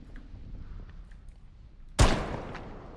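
A single sharp gunshot in a NoPixel GTA roleplay game cracks out loud and close after a stretch of quiet background, with a short decaying tail.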